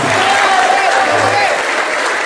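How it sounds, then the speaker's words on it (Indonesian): Steady, dense applause from a crowd at a regional gathering honoring the Pemuda Batak Bersatu youth organization, loud and continuous, with voices mixed into the clapping. "Tepuk tangan untuk PBB"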